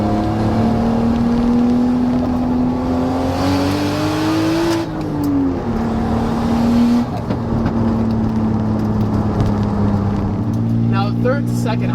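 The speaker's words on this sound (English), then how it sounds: "when you're just kind of doing the rev matching yourself" Nissan 240SX engine droning at steady revs, pitch rising then blipping and dropping during a rev-matched downshift, loud and close inside the car, with someone talking over it.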